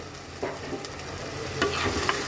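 Prawns sizzle steadily in a spiced masala in a hot pan, with a continuous frying hiss and a few soft stirring scrapes.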